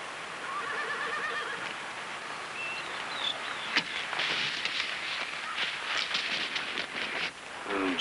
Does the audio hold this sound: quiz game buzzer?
no